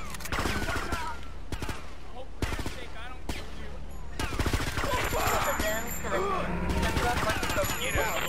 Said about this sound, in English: Yo, they're shooting.